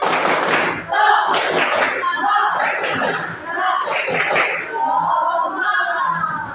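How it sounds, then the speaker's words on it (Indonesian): A group claps hands together in a rhythmic, patterned sequence of quick claps with pauses, loud and close, with a voice speaking near the end. "Oke, tepuk semangat."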